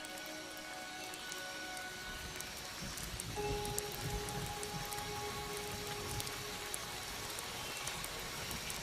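Rain falls steadily on foliage in the wild, a continuous soft patter of drops with faint scattered ticks and a low musical tone underneath.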